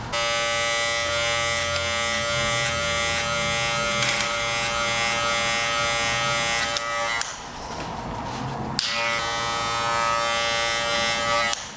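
Electric hair clippers fitted with a number 2 guard cut hair during a mullet haircut, a steady close buzz running throughout with a brief rougher burst of cutting partway through.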